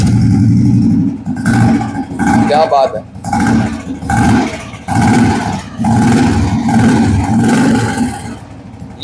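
A modified old Royal Enfield Bullet Electra, a 2003-era model, rumbling loudly up close with repeated throttle blips and revs, while someone talks excitedly over it.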